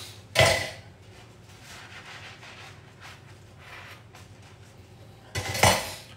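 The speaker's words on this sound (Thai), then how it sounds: "ที่บ้านไม่ได้มีเครื่องล้างจาน ใช้มนุษย์ล้างนะฮะ" Dishes and cutlery washed by hand at home clink and clatter in two sharp bursts, one near the start and one near the end, with quiet scrubbing and rubbing between them.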